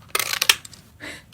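Paper trim is cut with scissors for an Easter box, a quick close burst of crisp snips and rustles followed by one softer slide, with no talk.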